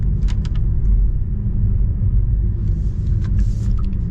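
A steady low synthetic hum and rumble from a 2024 Porsche Taycan accelerating in Sport Plus mode, droning continuously with faint high whirs on top, no talk.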